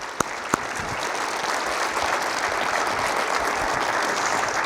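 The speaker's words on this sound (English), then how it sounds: "Would you please give them a round of applause?" A council audience applauds steadily at a State of the City event welcoming two council members to the stage, the dense clapping holding evenly throughout with no voices over it.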